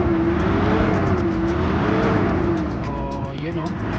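A Toyota Fortuner engine with throttle delay, low power and vibration revs steadily up close, its pitch swelling and sagging slowly in a wavering drone before easing slightly toward the end.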